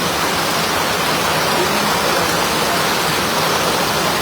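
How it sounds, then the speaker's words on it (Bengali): Rain falls steadily at an outdoor drama shooting location, a dense, even hiss of downpour that stays constant throughout with no voices. "এখন এই মুহূর্তে সম্ভব বৃষ্টি হচ্ছে"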